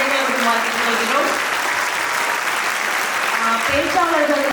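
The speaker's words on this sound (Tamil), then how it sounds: "ஒரு மிகப்பெரிய கைத்தட்டல்." A large crowd at a Tamil Pongal debate event claps loudly and steadily throughout, while someone talks over the sustained applause.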